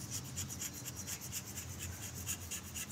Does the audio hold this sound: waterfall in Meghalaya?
no